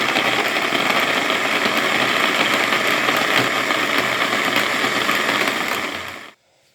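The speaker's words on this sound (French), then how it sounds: "On va commencer à mixer l'assaisonnement qu'on va mettre dans" A kitchen blender runs steadily and loudly as it mixes seasoning for meat, whirring continuously near the mic before cutting off abruptly at the end.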